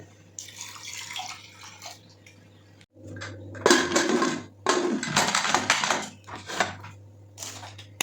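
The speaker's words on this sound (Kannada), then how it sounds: "ನೀರು ಹಾಕೊತಾ ಇದ್ದೀನಿ ಇಷ್ಟು" Water pours and splashes into a metal pressure cooker of dal in a few uneven bursts, with light clinks of the vessel between pours, close up.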